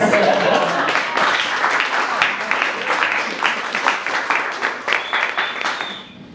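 Audience applause at a live stand-up comedy show, a dense wash of many hands clapping that holds steady and loud for several seconds before thinning into scattered claps and fading out, with a few voices cheering underneath.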